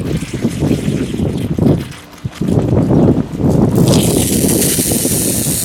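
Water spraying from inground sprinkler heads outdoors, a loud broad hiss and rush that swells and dips, then steadies with more spray near the end.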